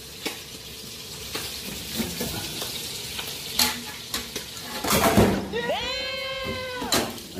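Galunggong fish frying in a pan give a crackling sizzle broken by sharp bursts of spattering oil, heard up close. A voice speaks over it, and a bleating-like whine rises near the end.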